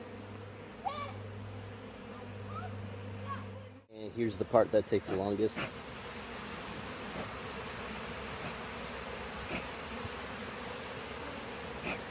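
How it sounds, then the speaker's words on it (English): Honey bees being moved into a box during a removal buzz in a continuous low drone close by, with a burst of handling noise and someone talking over them. "you can get the bees to come out, pour out, and into the box, like so"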